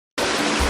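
Ocean waves laid into an edited soundtrack: a sudden, steady loud wash of surf noise that cuts in abruptly from silence and continues alone.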